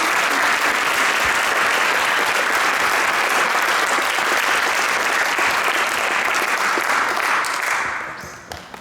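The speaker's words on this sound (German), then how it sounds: "vielleicht geben wir allen nochmal einen kräftigen Applaus" Audience at a domino toppling event applauding the team, a loud, dense, sustained wash of clapping that holds steady for several seconds, then fades quickly at the end.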